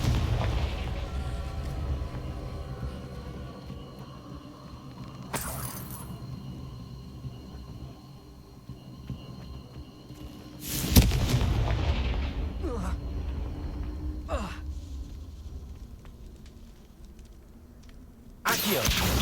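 Confringo fire-blast spells in Hogwarts Legacy, several sharp booming explosions at irregular intervals over a low rumbling game background, with no talk.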